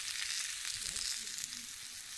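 Steady close sizzling of food frying on a hot cooking plate at about 220 degrees Celsius over a brick rocket stove, a continuous crackling hiss with no talk.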